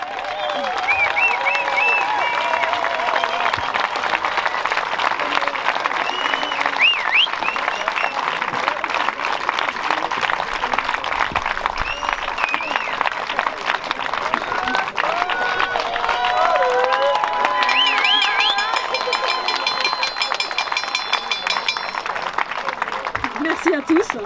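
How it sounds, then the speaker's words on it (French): A crowd at an outdoor farmers' rally against water reservoir basins keeps up continuous applause and cheering, with whistles and shouts rising over the sustained clapping for more than twenty seconds. "Un grand, un tonnerre d'applaudissements"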